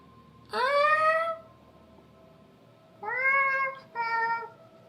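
A person imitating cat sounds, voicing two drawn-out, harmonic meow-like calls: one long cry, a pause, then a second call broken into two parts, close and clear against a quiet room.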